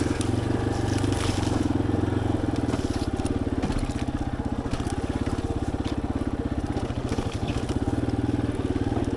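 A Yamaha XT250 dual-sport motorcycle rides a dirt trail shortcut, its single-cylinder engine loud and close with a steady throbbing drone that rises and falls with the throttle, over crunching and scraping from the rough ground beneath the tires.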